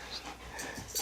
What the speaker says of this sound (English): got two crazy puppy dogs in here